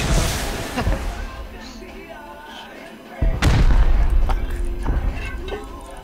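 A rocket is fired at another player in a survival video game, a sharp booming blast about midway after a quieter stretch, with game noise and brief talk around it.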